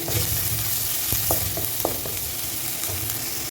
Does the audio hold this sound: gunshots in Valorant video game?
no